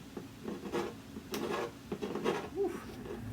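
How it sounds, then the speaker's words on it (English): A razor blade scrapes off the finish of a Taylor acoustic guitar in a series of short, quiet rasping strokes, close up and unhurried, with no talking. "So I managed to scrape most of it off."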